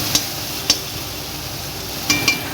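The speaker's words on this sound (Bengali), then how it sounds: "হলুদ দিয়ে দিলাম, যেটা ভালো ভাজছে ও দিয়ে দিলাম, আর দিয়ে দেবো লঙ্কার গুঁড়ো" Turmeric and chili powder fry in hot oil in a village kitchen while khichuri is cooked. A steady sizzle runs underneath a few sharp metallic clinks of a spoon stirring against the pan.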